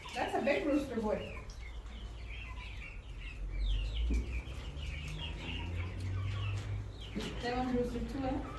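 Rhode Island Red and Plymouth chickens, including a big rooster, cluck and chirp at close range over an ongoing low murmur, while people talk intermittently.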